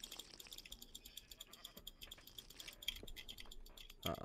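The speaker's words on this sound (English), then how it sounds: "Ooh, a sheep." Sheep bleating in a video game, a soft repeated bleat over a faint ambient backdrop with chirping insect-like sounds, quiet and fairly distant.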